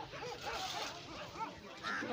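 Sniffer dogs bark and whimper in short yelps during a village theft search, fairly close, with people talking nearby.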